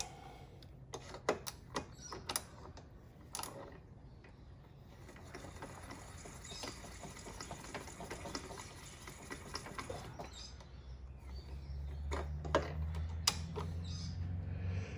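Tool cutting down a .223 brass case to form 300 Blackout brass, giving a grinding, creaking mechanical whir that builds and holds, preceded by sharp clicks and taps near the start.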